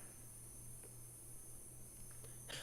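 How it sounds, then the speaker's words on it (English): Cajun swamp ambience, with crickets chirping in a steady high drone and faint scattered insect clicks over a low constant hum, calm and without voices. "today we want Cajun swamp sounds"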